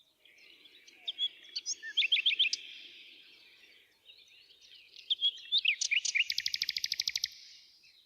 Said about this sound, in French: Le rossignol,